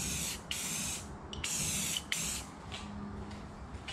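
Aerosol spray paint hisses onto a metal filing cabinet in short, even bursts, several strong hissing passes broken by brief pauses, close and loud.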